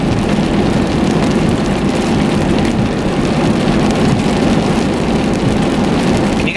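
Steady, heavy rain patters on surfaces outdoors, a dense continuous hiss and rumble that fills the whole stretch without pause or talk.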